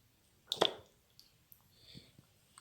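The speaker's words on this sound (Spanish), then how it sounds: "Lo echamos dentro del agua." A dense object is dropped into a container of water during an Archimedes' principle demonstration. It lands with a single short, quiet plop and splash, followed by faint small clicks and drips in an otherwise quiet room.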